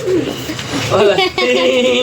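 Pigeons coo from a rooftop pigeon coop as someone talks nearby, their soft throaty calls rising in short phrases beneath and between his voice.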